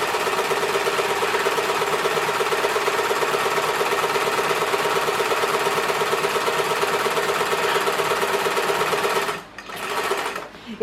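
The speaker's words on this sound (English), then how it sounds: "I'm using a walking foot with a measuring device here that you might not be able to see." A sewing machine fitted with a walking foot quilts through layers, running as a loud, steady mechanical whir with rapid stitching rhythm before stopping briefly near the end and restarting.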